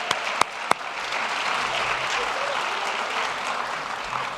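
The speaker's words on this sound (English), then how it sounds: "Let's give Jill a big round of applause." Audience applause at a real estate gala, opening with a few sharp individual claps before settling into steady, full clapping from a seated crowd.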